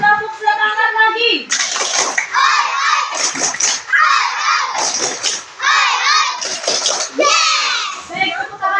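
Young schoolchildren shout a rhythmic classroom spirit chant together, loud and close, with sharp clapping bursts between the voiced phrases.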